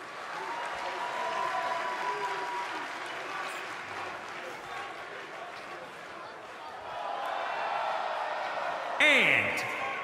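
A wrestling arena crowd at a women's match cheers and applauds in a sustained, echoing roar, swelling again near the end, with commentators talking over it.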